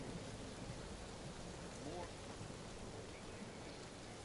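Steady rainfall in the Guardians of the Galaxy video game, a dense, even hiss of falling rain that stays constant and fairly loud throughout.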